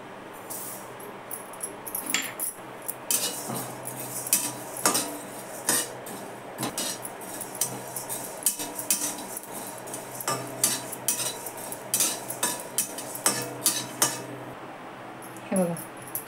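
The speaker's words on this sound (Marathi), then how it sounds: "आता थोडं धने जिरे पण थोडंसं भाजून घेते" Cumin and coriander seeds dry-roasting in a pan, stirred continuously: repeated close scraping and light metallic clinks of a spoon against the pan in an uneven rhythm, with a soft rattle of seeds between strokes.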